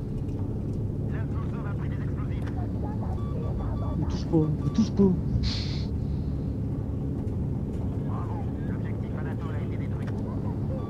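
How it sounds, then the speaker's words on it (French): A warplane engine in the Battlefield V multiplayer game drones as a steady low rumble throughout, with players talking over it and a few brief louder bursts midway. "On est dans l'avion."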